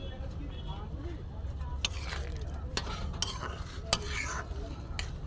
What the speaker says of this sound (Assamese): এয়া মোৰ মছলাখিনি ধুনীয়াকৈ উতলি গৈছে। এতিয়া মই ইয়াত দিম দালিৰ পকৰিখিনি।